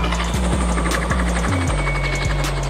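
A helicopter drones loudly and steadily nearby, its rotor producing a constant low throb with a rhythmic chopping pulse and shifting pitch.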